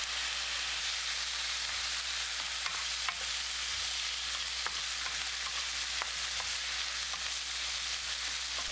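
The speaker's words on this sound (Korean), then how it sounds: "달군 후라이팬에 베이컨과 마늘 넣고 함께 볶아주세요." Bacon and garlic stir-frying in a preheated frying pan give a steady, fairly quiet sizzle, with scattered small crackles and light scraping from stirring throughout, and no voices.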